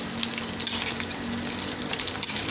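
Squid fries in a pan for breakfast, a close, continuous crackling sizzle with faint stirring, steady and moderately loud with no voices.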